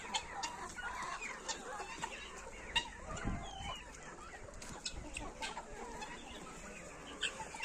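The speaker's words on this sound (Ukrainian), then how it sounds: "Ось така курочка." Backyard chickens clucking close by, soft repeated clucks and murmurs with an occasional sharper call, a faint busy flock sound throughout with no talking.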